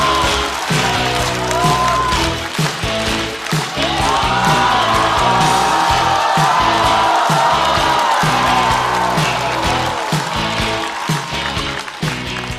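A studio comedy-show audience bursts into sustained applause and cheering with whoops and yells as a stand-up comedian is introduced, loud and dense, with music playing underneath throughout.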